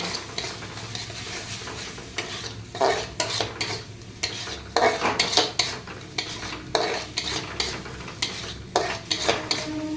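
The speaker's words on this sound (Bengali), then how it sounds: "দিয়ে এটাকে আমি ভালো করে নেড়ে নেব" A spatula stirs crispy chilli baby corn with a pinch of sugar in a pan, giving repeated scraping, clattering strokes in bursts over a soft background sizzle, close up and with no voices.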